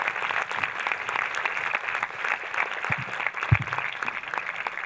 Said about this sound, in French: Vous pouvez tous les applaudir, hein, allez-y